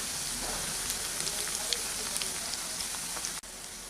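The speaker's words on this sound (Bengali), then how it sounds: "এগুলোকে সাবধানে একটু ঘুরিয়ে ফিরিয়ে ভেজে নিচ্ছি" Evening snacks deep-frying in hot oil in a pan, a steady dense sizzle and crackle with scattered pops running throughout, fairly close and unbroken apart from a brief dip near the end.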